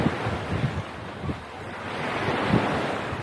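Sea waves wash onto the beach at Teluk Perigi in steady surging swells, mixed with wind buffeting the microphone, with no voices over it.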